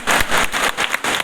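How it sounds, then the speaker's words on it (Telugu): An audience at a church honoring ceremony claps hard and steadily, a dense, loud wash of applause with no voices. "గట్టిగా చప్పట్లు కొడదాం"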